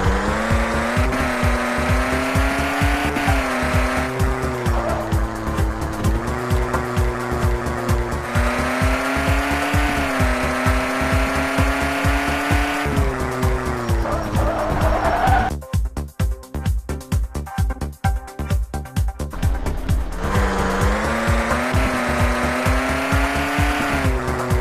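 A limousine drives through a taxi-driving video game with a constant, loud engine drone that rises and falls. Tire squeals and skidding noises cut in around the middle of the drive.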